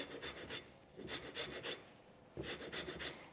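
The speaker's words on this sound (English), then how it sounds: "I'm going to zest in the zest of the 3 lemons using my microplane into our flour mix" Three lemons are zested on a microplane into a flour mix, making a quiet, rhythmic rasping scrape in quick repeated strokes, grouped into a few short bursts with brief pauses between them.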